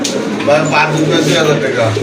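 Female running pigeons coo softly and repeatedly while a person talks nearby over them throughout.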